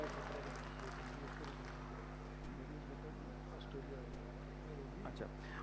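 Audience applause at an Arya convention's main stage session, faint scattered clapping sitting under a strong steady electrical hum.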